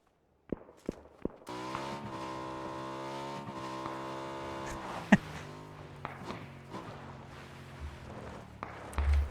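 Motorbike riding in PUBG: a steady harmonic engine drone settles in after a few sharp taps and holds with slight pitch shifts, broken by a sudden loud thump midway and clunks near the end.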